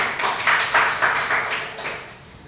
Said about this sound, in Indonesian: mari kita berikan aplaus dulu kepada Azara